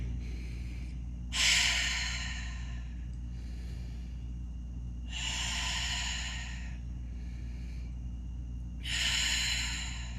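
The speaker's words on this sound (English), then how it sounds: "focused on breathing in through the nose and out through the mouth, holding at the top and releasing slowly" Slow yoga breath work, in through the nose and out through the mouth: three long, breathy exhales at even intervals, each a few seconds long, fairly close over a steady low hum, with no talking.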